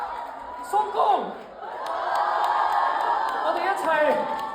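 A fan meeting crowd in Hong Kong cheers and whoops after a successful jump rope attempt using a hair straightener, with excited shouts rising and then holding as a steady roar of applause and voices.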